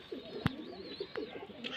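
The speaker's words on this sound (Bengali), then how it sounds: "দেখতে পাচ্ছেন পায়রা কোয়ালিটি" Pigeons kept for sale, including racing and Giribaz breeds, coo softly nearby in several short, low, throaty calls, quiet against a faint background with no talking.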